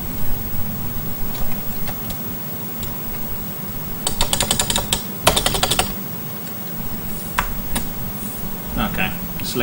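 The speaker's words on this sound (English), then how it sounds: "Don't realise you've got to use the keyboard sometimes" Keys clattering on an MSX home computer keyboard, with quick bursts of close rapid typing over a background hum and some brief speech.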